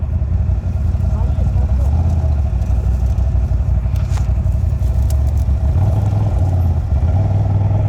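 A quad bike (ATV) engine idles and revs low while maneuvering and reversing, a loud close steady rumble with a slight rise near the end, and people talking over it.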